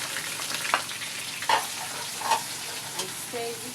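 Spring onion sizzles in a hot pan for fried rice with chicken, a steady frying hiss broken by several scraping stirs of a utensil, close and moderately loud, no talking.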